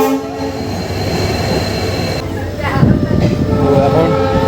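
A passenger train pulls out of Raiganj railway station toward Katihar: loud, close rumble and rattle of the carriages, with sustained horn tones sounding over the running noise and voices faintly in the mix.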